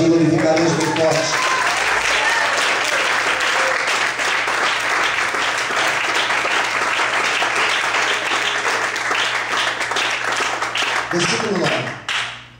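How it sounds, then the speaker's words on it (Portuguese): Church congregation applauding loudly and continuously for about twelve seconds, a dense wash of many hands clapping that fades out abruptly at the end, with a steady low hum underneath. "Quantos podem aplaudir e glorificar Deus bem forte?"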